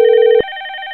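Incoming call ringing on a softphone in an Asterisk-based support setup: a loud, steady electronic ring tone that cuts off abruptly partway through, leaving a fainter tonal ringback pattern continuing alone.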